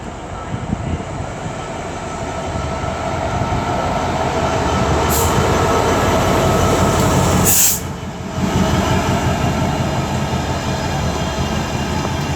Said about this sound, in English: What, the freight train?